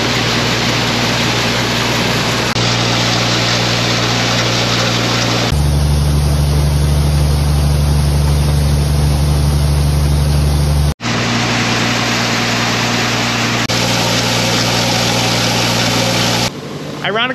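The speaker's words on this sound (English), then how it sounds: "we got the big auger set up" A big grain auger unloading a farm grain bin runs as a loud, steady mechanical drone that holds for the whole stretch, shifting in tone partway through.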